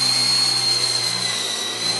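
An Esky Lama 4 RC helicopter flies in a small room, its rotors and motor giving a loud, continuous, steady whine with no pauses.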